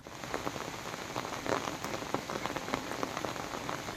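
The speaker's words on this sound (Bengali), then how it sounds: "আকাশ থেকে পড়া বৃষ্টির ফোঁটা যেন কিছুতেই থামছে না।" Heavy, unbroken rain pours down steadily on an Eid morning in Bangladesh, where it has fallen since midnight and left streets flooded. It forms a dense, even patter with no voices.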